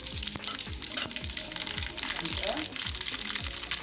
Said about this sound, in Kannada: ಸಾಸಿವೆ ಎಣ್ಣೆ ಕಾಯ್ದಿದೆ ಸಾಸಿವೆ ಮತ್ತು ಜೀರಿಗೆ ಹಾಕ್ತಾ ಇದ್ದೀನಿ